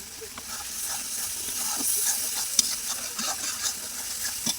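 Spice masala sizzles and fries in a pan for a potato curry, with slit dried green chilies added; a steady crackling hiss with scattered pops and stirring scrapes, close and moderately loud.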